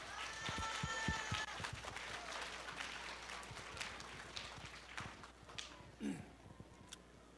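Children applauding at a science festival lecture, scattered quiet clapping that comes in bursts and thins out, heard at a distance.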